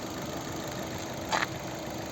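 A 2011 restyled Opel Zafira with a 1.8 MPi petrol engine idles steadily, a constant low hum with a faint brief rattle partway through and no voices.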